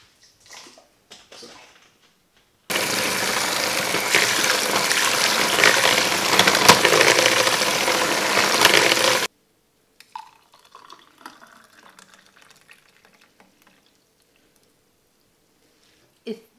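A blender mixes a thick beet smoothie with added water, a loud continuous whirring roar lasting several seconds before cutting off abruptly, followed by faint rustling and handling noises.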